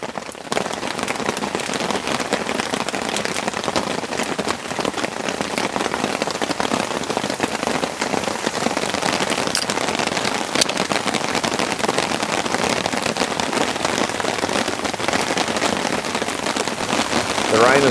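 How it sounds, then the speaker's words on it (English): Heavy rain drums steadily and densely on a camping tent during a rainstorm, a loud, continuous hiss and patter that fills the whole stretch without pause. "The rain is really coming in now. Thick and heavy."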